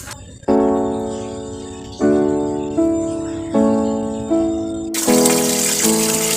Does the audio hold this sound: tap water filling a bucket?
yes